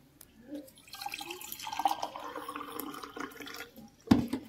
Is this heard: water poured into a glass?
yes